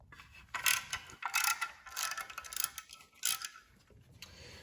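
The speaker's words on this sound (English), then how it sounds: "On this side, I use a socket with an extension." A ratchet on an extension clicks in short bursts while backing out an 8mm bolt on a Fiat 500 Abarth during a turbo and exhaust manifold install, close and crisp, with brief pauses between the sets of clicks.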